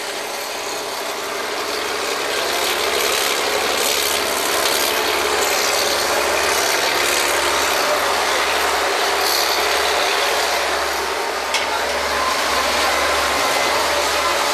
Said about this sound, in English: Engine draw works.